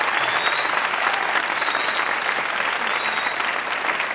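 A studio audience at a Pakistani comedy talk show breaks into dense, steady applause that stays loud and even for about four seconds, with no talking over it.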